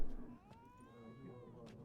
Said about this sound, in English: Man, that cat does not like me